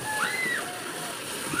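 Water is poured out and splashes steadily during home service work, a continuous close sloshing over about two seconds, with people talking nearby.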